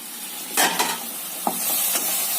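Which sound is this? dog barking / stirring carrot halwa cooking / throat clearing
stirring carrot halwa cooking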